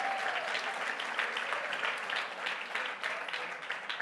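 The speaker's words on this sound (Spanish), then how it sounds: "Esas palmas son para Dios," A church congregation applauds in dense, continuous clapping that fills the room at a steady level throughout.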